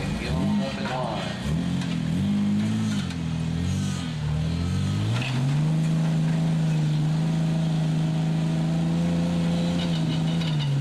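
Vehicles at an outdoor King of the Hill event drive up to get in line, with engines rising and falling through revs and then settling into a steady loud drone close by, with crowd noise and some talk underneath.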